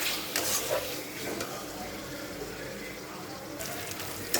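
Spice paste frying in a pan for a vegetarian jackfruit curry with chana dal, a steady close sizzle with faint stirring scrapes running throughout, without talk.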